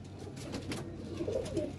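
A pet pigeon in a breeding loft gives a short, soft coo, faint and close, over low background noise with no talk.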